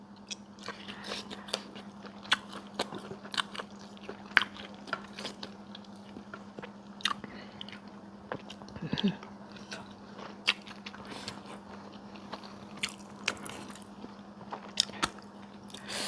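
Close-up chewing of beef and potato curry with tough beef, giving soft wet mouth sounds and repeated small crunches and bites in an irregular rhythm over a faint steady hum, with no talking.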